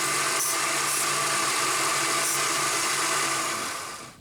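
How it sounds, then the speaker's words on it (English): A bench sander grinds a burr off a strip of brass in a steady loud whir with a bright broad hiss, a few faint ticks of contact along the way, then spins down toward the end. "let's go over to the sander, and we're going to trim this a little burr free"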